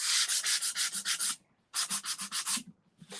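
Sandpaper rubs gently over a transfer on a painted table top, with two bursts of rhythmic back-and-forth strokes, about seven quick passes each, separated by a short pause and followed by another start.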